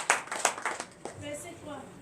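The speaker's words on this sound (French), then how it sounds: "Donne l'acclamation à Jésus." Scattered clapping from a church congregation at a Sunday service, a few sharp claps early on that thin out into quieter sound, with voices murmuring.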